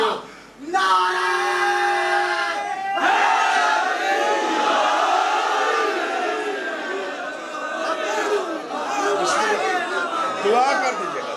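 A large crowd at a majlis shouting a slogan in unison, a loud sustained collective roar of voices lasting many seconds, opening after a short held call and filling the hall.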